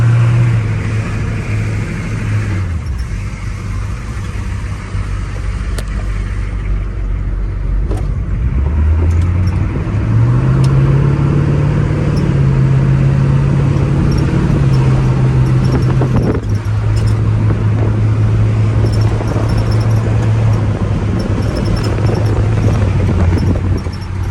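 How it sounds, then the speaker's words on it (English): From inside the cabin of a 1982 Chevrolet K10 4x4 with a 6.2 diesel, a loud steady drone and rumble of engine and road, the engine note rising and settling as the truck gets moving. "we're gonna do some driving around, that way you guys can feel like you're riding in this cabin"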